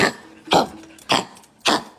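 A dog with an abnormal, persistent cough coughs four times in a row, harsh hacking bursts spaced about half a second apart, close by with quiet gaps between.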